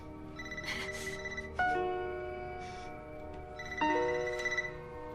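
Telephone ringing while an outgoing call is placed, a fairly quiet electronic ring tone sounding in two separate bursts a couple of seconds apart, each with a sharp onset and slow fade, no voices.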